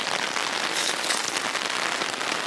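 Heavy rain pounds steadily on a camp tarp, a dense, close, unbroken hiss that holds the same loudness from start to end with no voices.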